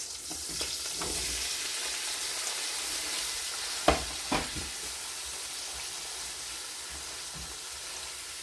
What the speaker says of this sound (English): So I'm just gonna stir that up a little bit, let it go